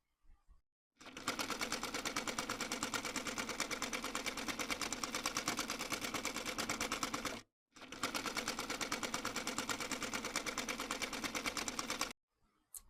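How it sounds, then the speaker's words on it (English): A sewing machine runs steadily while top stitching the seam allowance on fabric for a bubu dress, a dense, fast rhythmic whir in two long, loud bursts with a short pause between and no talking. "I'm top stitching the allowance on the fabric so it doesn't show through the openings."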